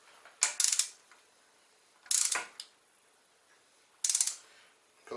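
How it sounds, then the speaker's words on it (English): A torque wrench ratchets in three separate short bursts of quick clicks while a bolt is tightened on an MK4 1.8T engine oil cooler install, close and clear against a quiet background. "Depending on how sensitive your torque wrench is,"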